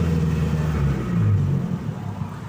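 A 2023 Abarth 695 Monza manual with a valved exhaust revs in sport mode, a continuous mid-low engine rumble that rises slightly near the middle and then eases, with no voices.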